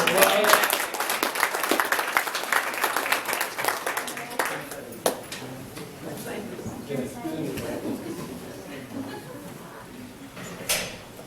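A luncheon audience at a scholarship awards event bursts into applause. The clapping is dense at first, then thins out over a few seconds as voices take over.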